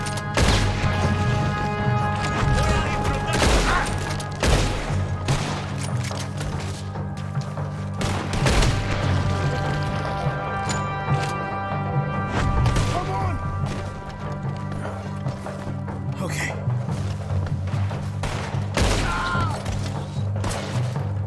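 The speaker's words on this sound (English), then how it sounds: "There's another set of cannons up ahead!" Heavy booming cannon blasts and crashes from Red Dead Redemption 2, repeated amid a dense, loud battle din with a low droning hum underneath.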